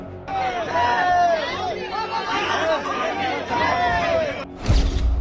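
Crowd of devotees gathered at Patna airport, a dense babble of many voices with shouts rising over it, then a sudden thud near the end.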